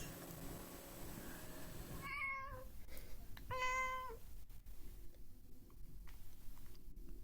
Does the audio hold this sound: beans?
no